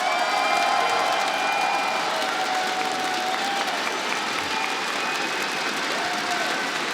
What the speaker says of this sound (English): I mean, Alex, you're hearing the crowd, you're hearing the excitement.